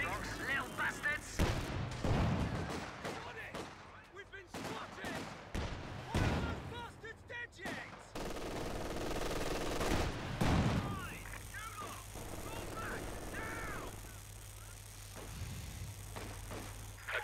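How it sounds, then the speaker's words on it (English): Infantry gunfire in the strategy game Company of Heroes 2, with sharp bursts and cracks of shots scattered irregularly over a rumbling battlefield background, some heavier booms, and a voice speaking at points. "Enemy infantry firing."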